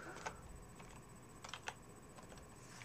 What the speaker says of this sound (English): now I'm going to start typing browse for browse artists